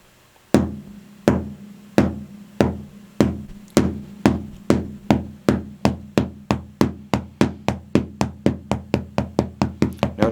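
A drumstick taps single strokes on a dead practice pillow using an open-closed-open motion, the crisp close hits starting slow and steadily speeding up into a rapid even stream.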